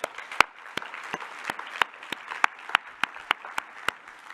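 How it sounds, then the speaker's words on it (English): A small audience claps for a speaker at a science and society talk, giving sparse, evenly spaced hand claps that ring out distinctly across a few seconds. "I think Dr. Nelson deserves another round of applause"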